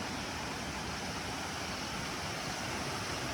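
A waterfall along a Finger Lakes trail roars as a steady, broadband rush of falling water, constant and even throughout with no voices.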